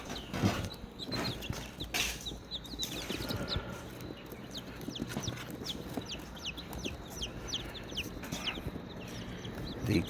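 Two-week-old Cornish hen chicks cheep and cluck continuously in a small group close by, high peeping calls layered over rustling and shuffling.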